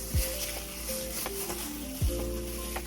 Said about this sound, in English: I'm going to start mixing these together until it's nice and thick